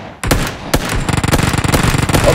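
Rapid pistol gunfire in a video game crackles close and loud, two sharp opening shots followed by a fast rattling string of repeated rounds.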